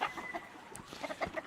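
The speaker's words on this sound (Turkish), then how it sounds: "Şu ayam cemani horoz bayağı yaşlı." An old Ayam Cemani rooster on a farm gives short clucking calls in a steady series, fairly close and clear, with no talk over it.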